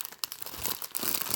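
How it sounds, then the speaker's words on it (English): Plastic packaging of diamond painting drills crinkles close by, a short burst of bright rustling and crackling that grows busier toward the end. "Sorry for the crinkle noise."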